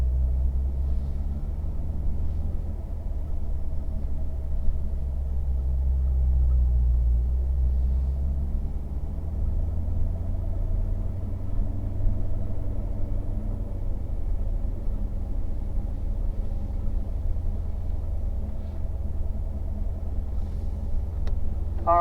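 Race cars rumble around the Spring Mountain circuit on a warm-up lap, a low continuous engine drone heard from inside, steady throughout with no voices.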